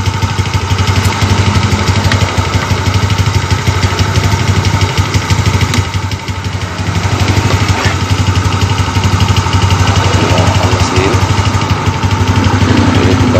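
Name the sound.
vehicle engine idling while radiator water circulates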